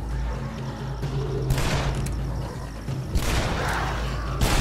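Rapid gunfire rattles out in the video game Shadow Warrior, with loud repeated shots and booming bursts layered over a constant low rumble of game sound.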